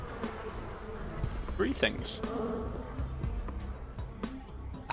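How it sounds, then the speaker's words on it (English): Buzzing of infection in the video game Pathologic drones in insect-like waves beneath someone speaking, moderately quiet with brief louder swells. "I can hear the buzzing and I don't like it."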